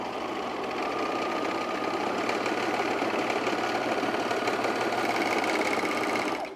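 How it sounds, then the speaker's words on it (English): A 4-thread overlocker sewing machine stitches underwear fabric in a fast, even, continuous whirring chatter that runs without pause before stopping abruptly. "Let's start sewing some panties."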